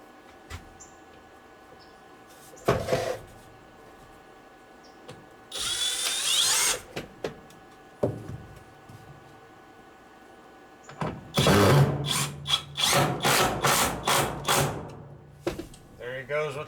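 Power drill driving screws on a house-building job, with a couple of short bursts early followed by a longer run of rapid, stuttering pulses near the end, set against quiet background hum and occasional clatter.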